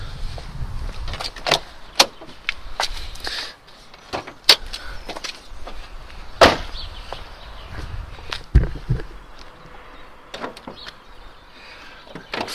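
Under the hood of a BMW Z3M Coupe, sharp mechanical clicks, thumps and latch sounds ring out close by, a scattered series of releases and knocks as the bonnet is unlatched and raised.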